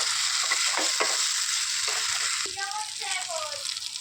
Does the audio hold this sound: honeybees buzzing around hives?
no